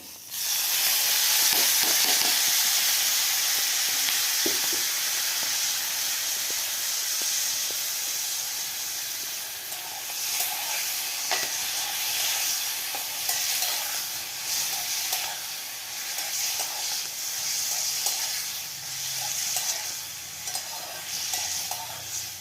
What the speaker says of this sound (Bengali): এবার কাঠকড়কটা তেলের উপরে দিয়ে দেবো।